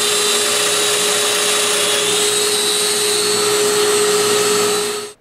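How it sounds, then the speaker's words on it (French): Domino joiner boring mortise holes into the corners of a wooden bedside table base; a loud, steady whining motor drone with cutter noise that holds for about five seconds, then stops abruptly, with no talk. "Je perce des trous pour 2 dominos"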